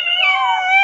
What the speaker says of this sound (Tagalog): Ang iingay ng mga kuting natin.